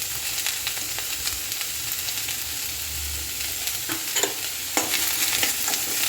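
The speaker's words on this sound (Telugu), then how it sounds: "ఇవంతా కూడా బాగా ఫ్రై అవ్వనివ్వాలి." Garlic and vegetables fry with salt in a pan, a steady close-up sizzle with stirring scrapes and a couple of louder crackling bursts near the end, no talking.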